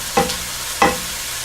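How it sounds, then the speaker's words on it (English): Baby bella mushrooms sweating in a pan, a steady close sizzle with two brief stirring scrapes about half a second apart. "Now we want to sweat these mushrooms"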